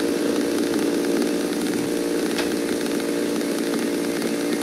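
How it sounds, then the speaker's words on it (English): Chainsaws in the horror video game Cry of Fear, a continuous buzzing engine whine that holds steady and loud throughout without pause or speech. "I hear chainsaws."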